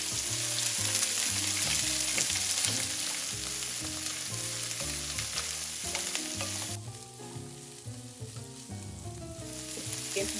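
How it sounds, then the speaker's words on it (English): Corned beef browning in a frying pan, a steady sizzle and crackle of frying meat, partly masked by louder background music playing throughout. "In my other frying pan, I am going to put my corned beef and get it browning."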